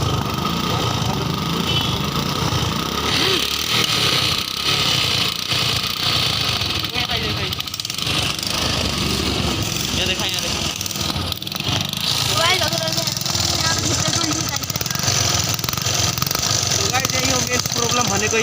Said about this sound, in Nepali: अब यसपछि चाहिँ बाइक कोल स्टार्ट हानौँ